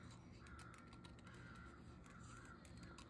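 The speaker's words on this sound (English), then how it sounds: "The crows are outside squawking." Crows cawing outdoors on a fine day, heard through open doors and windows: repeated harsh caws, faint and distant, over a steady background hiss.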